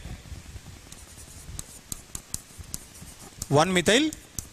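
Marker or chalk strokes on a board during a chemistry lesson on IUPAC nomenclature, heard as a string of short, scratchy taps and swipes in an uneven rhythm, close and fairly faint, with a brief voice near the end.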